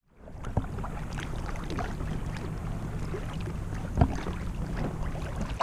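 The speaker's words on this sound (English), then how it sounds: "We're trying to do this two-person paddling thing, and it's just not really working out." Two people paddle a kayak together on Summersville Lake. A steady wash of water and wind runs throughout, broken by a couple of hollow knocks as the paddles strike the boat, nearby and moderately loud.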